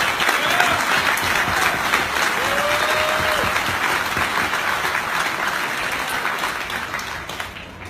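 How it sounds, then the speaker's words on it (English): An indoor audience at a veteran of the year award ceremony gives steady, sustained applause. Dense clapping fills the room at an even level for several seconds and then begins to taper. "let's give a round of applause for Scott Gallagher."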